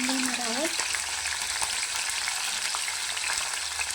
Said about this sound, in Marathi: आपण शेंगा टाकून घेऊया आणि बारीक गॅसवरती 5 ते 10 मिनिट आपण तेलामध्ये याला फ्राय करून घेणार आहोत